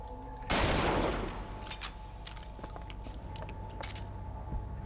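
The Heater, a fire shotgun in Bioshock Infinite, fires one loud blast with a roaring whoosh that fades over about a second, followed by quieter clicks and clatter.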